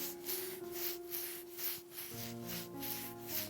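Fingertips massage the skin above and below the lips with soft, rhythmic rubbing strokes, close and gentle, repeating in a steady pulse over a faint background hum, with no voice present.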